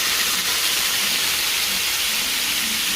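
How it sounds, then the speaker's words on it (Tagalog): Vinegar boiling hard in a pan of chicken liver adobo, making a loud, steady, close hiss with dense sizzling and bubbling that does not let up. "Kaya nagbukal pa ang suka."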